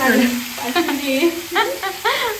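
Chicken sizzles steadily in a hot pan while cooking for a curry, a continuous close frying hiss with a voice heard over it throughout.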